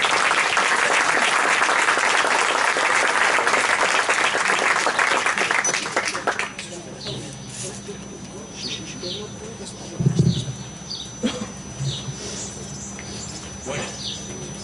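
Audience applause at a tribute ceremony, a loud dense burst of clapping for about six seconds that cuts off abruptly, followed by quiet room noise with scattered small sounds.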